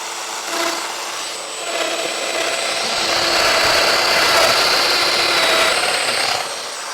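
A Festool Domino EQ 700 joiner cuts mortises into wood, a steady high-pitched motor whine that rises into a louder cutting roar for several seconds before easing off, close by with no talk.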